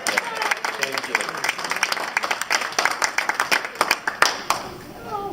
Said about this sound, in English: you get this lovely round of applause from your audience